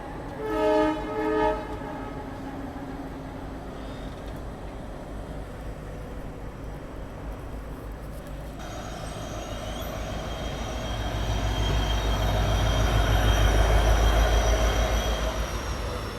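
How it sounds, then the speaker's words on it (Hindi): An ALCO diesel locomotive in India hauls a train past. A horn blast opens, then a long rumble of wheels and cars builds and grows loud and close toward the end. "एक और डीजल लोकोमोटिव, एक और एल्को लोकोमोटिव के दर्शन।"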